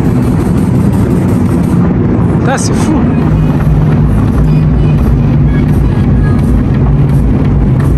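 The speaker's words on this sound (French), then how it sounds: "C'est la Bugatti Veyron Cab, cabriolet phase 2, d'époque qui monte sur le catwalk actuellement." A phase 2 Bugatti Veyron cabriolet driving onto a catwalk at an indoor car show, a loud continuous low engine rumble amid crowd noise, with people talking over it.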